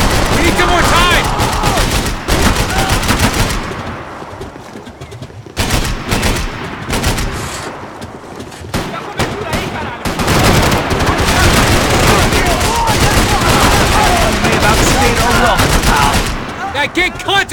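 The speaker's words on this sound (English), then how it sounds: "I can't concentrate with bullets whizzing past my head!" Heavy gunfire from Max Payne 3 rattles in dense bursts of automatic shots, with bullets whizzing past and impacts, nearly continuous and loud, with brief lulls before the firing resumes.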